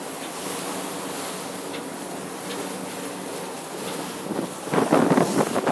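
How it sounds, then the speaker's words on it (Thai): Strong wind buffets the microphone on a boat cruising the Bosphorus strait, a steady roar with water and wave wash beneath, growing louder and gustier near the end. No one speaks. "ลมจะแรงไปหน่อยนะ"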